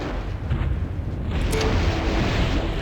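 Artillery and missile fire in the MechCommander video game booms and rumbles in a dense, continuous barrage of overlapping blasts, loud and close, with no pauses.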